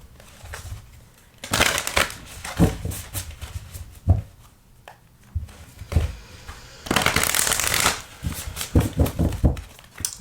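Astrology oracle cards from a Black Moon deck are shuffled by hand in repeated bursts of riffling and rustling, loud and close, with short pauses between rounds.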